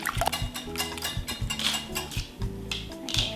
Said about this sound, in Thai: ใช้ที่ตีไข่นะคะตีทุกอย่างให้เข้ากัน